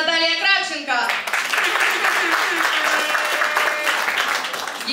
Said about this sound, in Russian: Еще раз попрошу ваши аплодисменты нашему жюри.